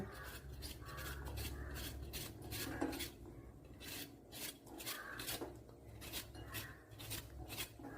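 Bitter gourd being sliced with a knife, a run of rasping cuts in a steady rhythm, close and fairly quiet, with no talking.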